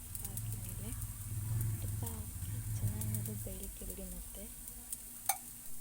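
A ragi banana pancake cooks in a pan with a soft, steady sizzle underneath while a person speaks over it.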